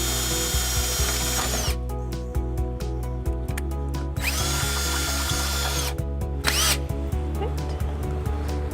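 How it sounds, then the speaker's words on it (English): A power drill whirs steadily while drilling a hole in a 2017 Hyundai Elantra frame for a hitch, its motor pitch dipping and rising as the bit bites in, with clicks and brief pauses between bursts. "We're gonna use this drill to create a hole for our remaining mounting hardware"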